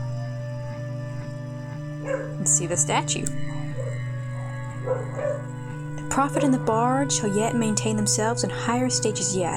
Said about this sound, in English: I apologize if you hear any dogs barking,